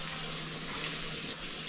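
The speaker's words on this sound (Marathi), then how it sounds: "थोडं त्याच्यामध्ये पाणी टाकते।" Water poured into a pan of ridge gourd curry, a steady close-up gushing and splashing rush that lasts under two seconds with no voices.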